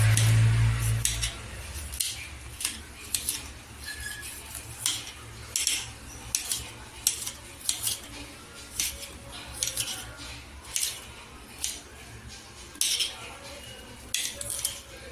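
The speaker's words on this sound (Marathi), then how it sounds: "इथे बघा आपला नारळ आता कट करून झालेला आहे पूर्णपणे" Repeated sharp knife strikes chop through a coconut, irregular taps and scrapes against a board, close and moderately loud.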